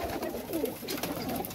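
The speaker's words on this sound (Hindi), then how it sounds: "ये जी कबूतर हैं जी" Several pigeons coo softly in low, throaty murmurs, overlapping nearby in a gentle continuous burble, at a pigeon keeper's loft.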